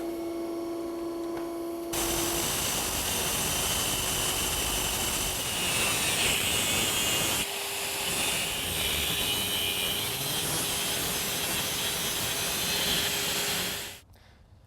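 An electric motor shaft for a dual-motor electric vehicle drivetrain is being cut off. A loud, steady, harsh cutting roar lasts about twelve seconds, dips briefly partway through, then stops abruptly.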